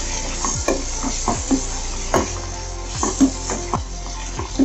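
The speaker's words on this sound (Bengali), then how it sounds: "আলুগুলোর সঙ্গে মশলাটাকে কষিয়ে নেবো, তারপরে আমি ডিমগুলো দিয়ে দেবো।" Potatoes sautéing with hand-ground spice paste in oil for Bengali egg curry, a steady sizzle broken by repeated scraping stirs and spatula knocks against the pot, close and fairly loud.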